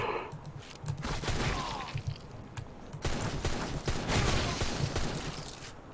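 Pistol gunfire in a hectic multiplayer shooter video game, repeated sharp shots in uneven bursts over steady game noise, loud and close throughout.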